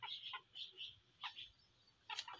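A few short, faint clucking calls from a rooster and a hen, spaced apart with quiet gaps between them, in a village in Punjab, Pakistan.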